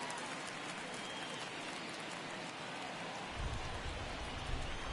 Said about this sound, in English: It's been raining since the jump here in Chicago